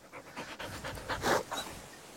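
Female Border Collie panting close by, a quick steady series of soft breathy huffs, alone and fairly quiet.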